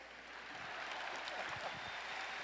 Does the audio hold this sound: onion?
no